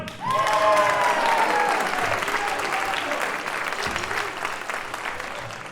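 An audience at a Texas State Jazz Ensemble concert applauds after a trumpet feature, a burst of dense clapping that swells quickly and then slowly fades over several seconds.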